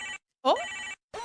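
A phone's ringtone plays close by in short, bright, repeating melodic bursts separated by brief gaps, with a single quick exclamation from a person.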